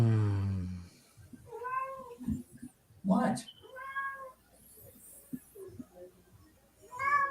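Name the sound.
cat meowing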